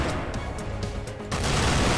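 Gunfire in the Cortex Command video game, a dense, continuous stream of game weapon fire with sharp bursts that grow louder and fuller in the last stretch.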